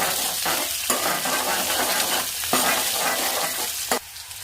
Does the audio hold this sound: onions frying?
yes